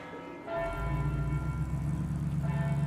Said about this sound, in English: From the spire of this church rang its bells for the Angelus thrice daily.